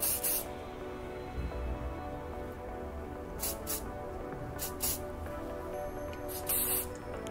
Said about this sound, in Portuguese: Agora um spray para finalizar.